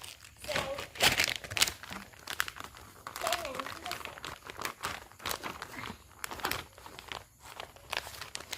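Stickers being peeled from a backing sheet and pressed onto packaging, giving repeated crinkling, tearing crackles in short close bursts, with a voice and adult talk nearby.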